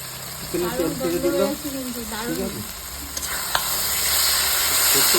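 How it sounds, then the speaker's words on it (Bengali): Chicken sizzling and frying in a pan as it is stirred for an old-style home-cooked Bengali chicken curry, a steady close hiss with a spoon scraping, and a voice talking over the start. "তাড়াতাড়ি এটা আমার কোষা হয়ে গেলো চিকেনটা"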